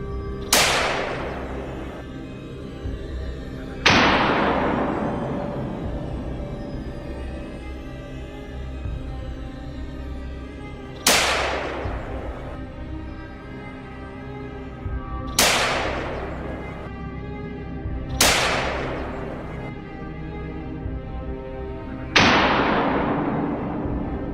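Rifle shots ring out on a winter wild boar hunt with a farmer and hound: six loud, sharp cracks spaced several seconds apart, each trailing off in a long echoing decay.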